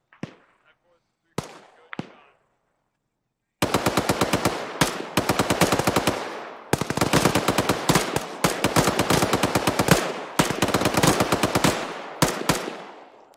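Rapid automatic gunfire rings out in ArmA 3 infantry combat, a few isolated shots first and then long, loud bursts of sharp cracks in quick succession, with brief gaps between volleys.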